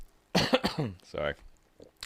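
A few harsh, close coughs in quick succession, with a brief throat sound trailing off afterward.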